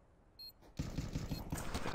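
A quick, faint burst of gunfire in Counter-Strike, several rapid shots in a row after a small click, thin and distant like game audio.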